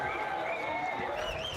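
A dense crowd of esports fans at a Valorant VCT Pacific Kickoff match claps and cheers in a steady, continuous wash of applause that fills the whole short moment.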